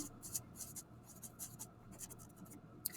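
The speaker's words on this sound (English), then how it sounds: "In the middle, we're going to write down socialism." Marker strokes on a classroom board as a teacher writes a word, a series of short, scratchy squeaks and swipes in quick irregular bursts, fairly close, with a low room hum underneath and no talking.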